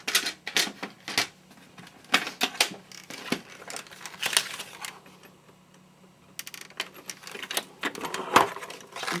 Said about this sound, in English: So bring back your Cuttlebug.